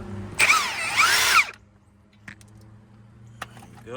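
An impact wrench with a 14mm socket spins loose an outer tie rod end nut on a 2013 Mazda 3, giving one loud, rattling burst of about a second. Quiet clinks and shop noise follow.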